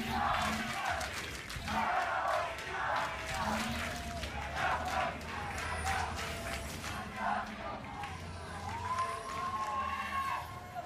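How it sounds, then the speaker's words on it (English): A packed esports arena crowd cheers and chants at the LCS Summer 2019 semifinal between Cloud9 and CLG, a roaring, surging wall of voices with rhythmic shouts and noisemakers, loud and sustained throughout. "The crowd erupting here as we are heading into what could be the final game."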